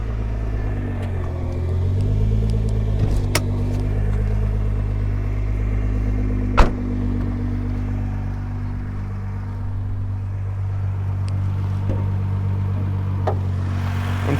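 A 2012 Nissan GT-R with an aftermarket exhaust rumbles steadily with a deep, even engine note, close and loud throughout, with one sharp knock midway.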